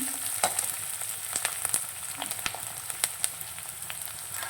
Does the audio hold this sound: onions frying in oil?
yes